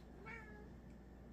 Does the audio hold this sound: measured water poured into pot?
no